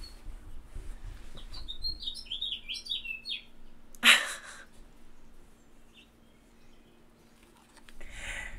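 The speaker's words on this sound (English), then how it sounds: "It's a bird in my window talking to me." A bird at a window chirps in a rapid series of bright, close tweets, followed by a single loud knock and then quieter background hum.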